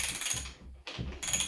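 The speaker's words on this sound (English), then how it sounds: "We need to tighten the axle nuts." Axle nuts being tightened on a Lenco wheel with a tool, heard as close, quiet ratcheting clicks in two short bursts with a brief pause between them, no talking.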